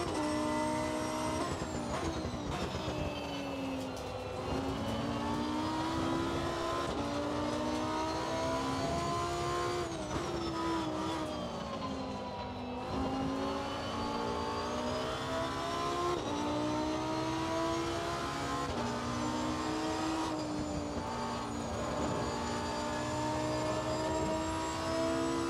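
Race car engines in Assetto Corsa Competizione at Watkins Glen, with a Ferrari close by. The engines howl loud and continuous, pitch climbing through the gears and dropping on each shift and braking zone, with no talking.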